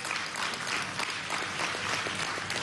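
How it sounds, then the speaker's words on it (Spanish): Steady applause from a crowd, a dense wash of clapping that holds evenly throughout at a moderate distance, with no voices on top. "un aplauso a Trino Mora"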